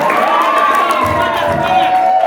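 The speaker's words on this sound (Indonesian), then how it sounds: "kita kasih tepuk tangan dulu dong" Children cheer and shout at a school quiz final, a loud crowd of young voices rising in a sustained, wavering cry with scattered clapping beneath.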